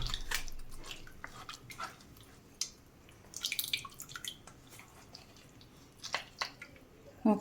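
Moringa soup stock is pressed through a kitchen strainer, giving quiet, close wet drips, squelches and small splashes at irregular intervals, with brief clinks of the utensil against the strainer.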